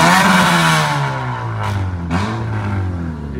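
A Honda Civic with a newly fitted exhaust revs hard and close, a loud sustained engine roar that eases slightly and then surges again with a couple of throttle blips.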